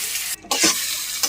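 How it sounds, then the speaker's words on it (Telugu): Loud hissing sizzle as beetroot and chana dal hit hot tempering oil, broken briefly by a short pause, with stirring scrapes close to the pan. "శనగపప్పు బీట్రూట్ పోపులో వేసేసుకోవాలి"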